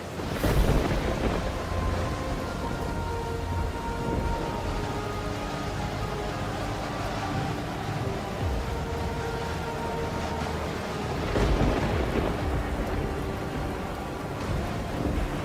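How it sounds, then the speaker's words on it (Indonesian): A thunderstorm with steady heavy rain pouring throughout and low rumbling thunder cracks near the start and again toward the end, loud and close, with no talk. "Ini kan hujan badai."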